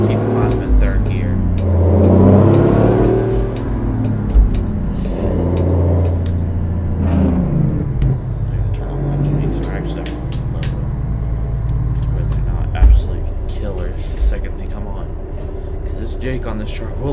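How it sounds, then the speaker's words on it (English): A Peterbilt 359 truck in American Truck Simulator engages its jake brake in third gear, a steady, loud low engine rumble and drone that holds throughout beneath continuous talking. "Jake on this truck will literally take off all the speed instantly"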